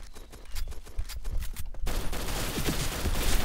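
Pistol shots in the game Point Blank, a dense run of sharp reports under the game's background noise, loud and close, with no one speaking.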